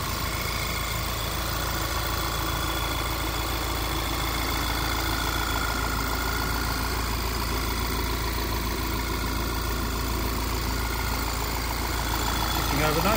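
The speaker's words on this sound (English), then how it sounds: "2-litre TSI engine there, just doing what it's supposed to do." A 2-litre TSI petrol engine in a 2009 VW Scirocco GT DSG idles with the bonnet open, a steady, even mechanical hum with faint ticking, heard close and continuous throughout.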